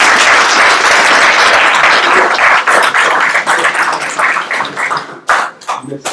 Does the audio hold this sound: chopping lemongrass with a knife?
no